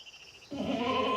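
A single loud, strained bleat from a goat frustrated at being isolated from other goats, starting abruptly after a moment of quiet and holding steady, close and alone.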